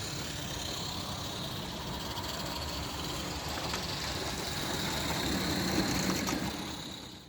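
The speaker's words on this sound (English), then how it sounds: "The locomotive pulls away really smoothly, and it can run as slow or as hard as you want." Live-steam Roundhouse locomotive running on 45mm garden track, a steady loud hiss and chuffing rush throughout that builds slightly toward the end before fading, heard close with no voices.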